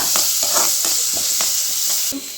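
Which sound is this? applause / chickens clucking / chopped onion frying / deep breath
chopped onion frying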